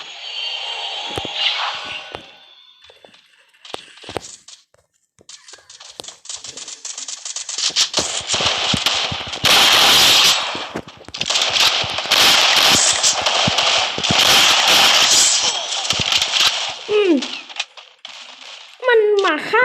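Automatic M4A1 rifle fire in a shooting video game, crackling in dense, sustained bursts that fill most of the stretch after a few scattered clicks and clinks at the start.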